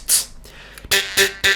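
Jaw harp combined with beatboxing, pushed with more air, giving a breathy hiss followed by three loud, punchy twanging bursts in quick succession, close up and with no talking.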